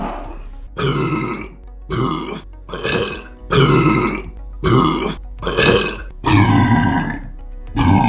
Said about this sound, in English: Oh, that burp literally climbed a ladder up my esophagus.